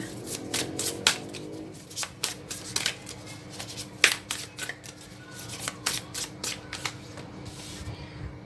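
Tarot cards being shuffled and drawn by hand, crisp riffling snaps and slaps in irregular close bursts, with no talk.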